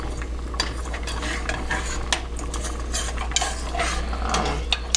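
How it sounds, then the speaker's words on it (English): Basil cream sauce being stirred in a pan for chicken: a steady scraping swirl of spoon against metal with a faint bubbling sizzle and occasional sharp clinks, close and continuous with no talking. "I'm gonna cook this, keep stirring it for about 1 minute, and it should get nice and thick and bubbly"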